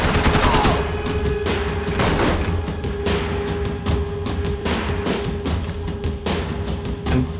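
Submachine guns firing in an office-space arena in the video game Max Payne 3, rapid bursts of loud shots repeating throughout with a dense, continuous crackle and no talking.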